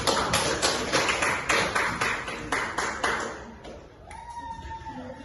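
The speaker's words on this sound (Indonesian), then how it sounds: "Ya, aplaus untuk kelompok." A classroom group gives applause after a presenting group finishes: a handful of rhythmic, fairly close claps repeating steadily, then fading out near the end.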